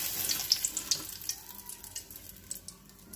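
Green chillies frying in hot oil for pakoras, a steady soft sizzle with scattered sharp pops and crackles, loudest early on and easing toward the end, with no one talking.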